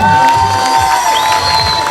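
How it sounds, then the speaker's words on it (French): An audience cheers and applauds a local athlete at a triathlon awards ceremony, the Triathlon des Lacs 2025, with a loud continuous crowd roar and scattered shouts over the whole stretch. "Allez, un applaudissement pour le local."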